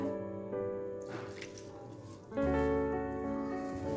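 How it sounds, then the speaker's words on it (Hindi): Warm water runs and pours for pizza dough kneading, a steady trickling stream with tonal ringing that pauses briefly, then resumes more strongly and fuller. "गुंदाई करने के लिए आपने गर्म पानी लेना है, नीम गर्म पानी का इस्तेमाल करना है।"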